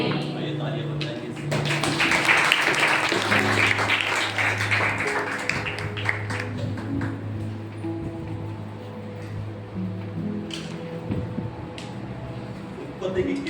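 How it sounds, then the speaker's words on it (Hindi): A church congregation at a Sunday sermon bursts into applause, dense rapid clapping that peaks early and thins out over several seconds, with sustained music and some voices underneath. "आइए तालियां बजाएंगे"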